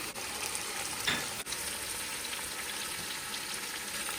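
Meat and tomato are stirred and fried in a pan for bhuna gosht, a steady close sizzle with a brief scraping stir near the start and no talking.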